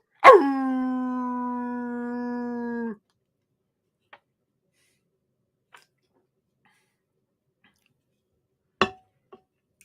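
A person imitates a wolf howl, one loud rising-then-sustained vocal howl of about three seconds, followed by near silence with a few faint ticks and a brief thump.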